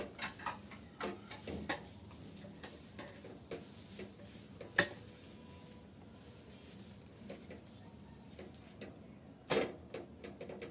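Soft, steady sizzling of an egg-stuffed paratha frying golden in a pan, low and close, with scattered light ticks and a couple of sharper taps; no talking.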